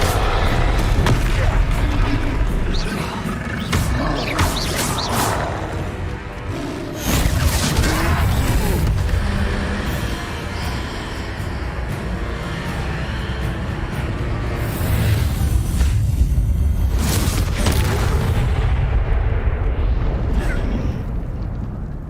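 Repeated Confringo fire spell blasts in Hogwarts Legacy, loud booming explosions layered into a dense, continuous roar of crackling impacts and rumble that stays intense throughout.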